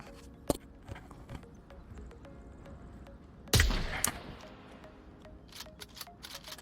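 Shots from an M40A5 bolt-action sniper rifle with an ACOG in the VR game Onward: a sharp crack early on, then one loud booming shot echoing away, amid faint clicks of bolt handling.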